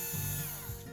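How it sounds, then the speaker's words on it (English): Worx electric screwdriver running while adjusting a Precision Bass truss rod, a close, continuous low motor whir lasting about a second with no talk. "I'm just gonna use my Works screwdriver"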